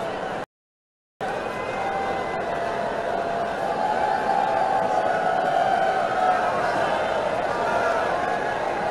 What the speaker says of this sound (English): Look at the crowd really enjoying themselves.